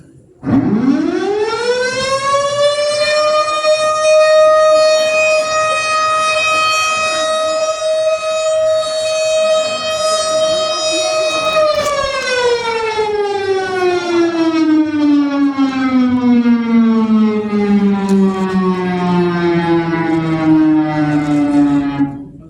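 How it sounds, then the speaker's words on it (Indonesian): An evacuation drill siren at a regional disaster management agency in South Tangerang rises and holds a loud, steady wail for about ten seconds, then slowly winds down in pitch, heard alone and close. "nanti akan ada suara sirine seperti ini"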